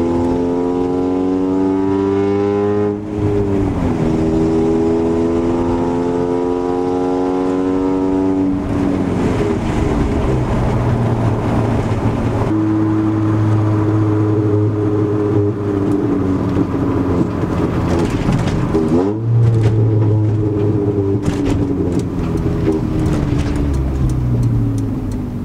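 A car engine with an idle fault runs through gear while decelerating, its steady droning pitch sliding down and hunting unevenly, with surging and dipping tones over road rumble, loud and close with no talk.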